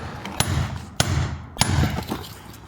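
A hammer strikes a concrete surface three times at uneven intervals, with sharp, fairly close impacts over a steady background.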